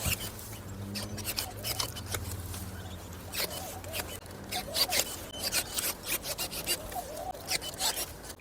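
Cordless pruning shears cutting tree branches outdoors, a motor whirring in short bursts with repeated snipping clicks and woody crunches, close and fairly quiet, spaced irregularly across the stretch.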